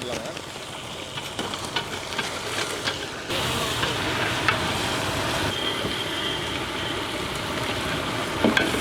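Fried quail pieces go into a hot pan with capsicum and salt and sizzle steadily, with a brief stirring clatter early on, close and fairly loud, continuing without talk.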